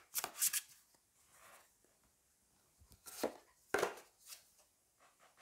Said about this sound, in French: on va aller prendre 2 cartes